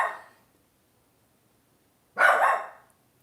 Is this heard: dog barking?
yes